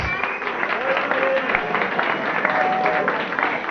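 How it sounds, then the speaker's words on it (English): Pub quiz audience in a tavern applauding the winning team, a steady wash of clapping with some voices and whistles mixed in, sustained at even loudness through the whole stretch. "Give them a huge round of applause"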